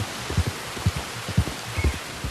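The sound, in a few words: rain falling in a video game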